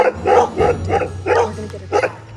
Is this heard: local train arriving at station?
no